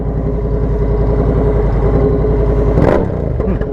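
A Honda Rebel 1100 motorcycle engine revs to about 4,000 RPM, giving a loud, close, steady throbbing rumble, then eases off briefly near the end.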